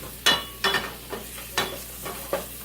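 Vegetables with fennel sauté in a pan while a wooden spoon stirs them, giving five distinct scraping strokes at a steady rhythm over a soft, continuous sizzle, close up, with no talking.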